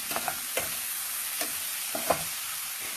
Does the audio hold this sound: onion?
yes